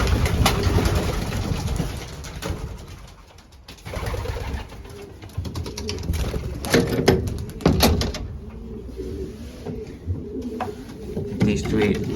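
Racing pigeons coo softly inside a loft, a low steady murmur broken by clattering knocks and a door sliding, with someone talking over it.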